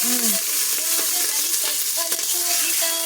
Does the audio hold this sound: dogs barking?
no